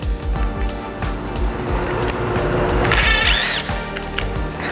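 A power drill drives screws into wood while a climbing hangboard mount is assembled. Scattered knocks and handling noises lead into a short, loud whirring burst with a high squeal near the middle.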